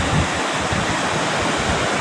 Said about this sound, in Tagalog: problema po yan pag ganyang alon na